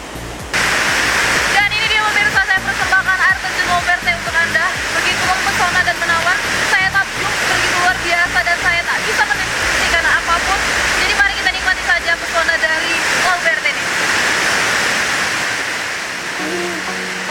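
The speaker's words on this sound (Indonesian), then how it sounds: "sebelum melihat air terjun Lauberte dari dekat" Steady rushing roar of the Lauberte waterfall in Langkat, Indonesia, fills the scene, loud and close, with a voice speaking over it.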